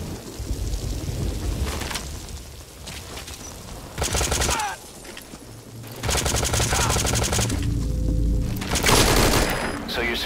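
Suppressed gunfire in Metal Gear Solid V: Ground Zeroes comes in several clattering bursts, each about a second long, separated by quieter gaps with a low rumble beneath them.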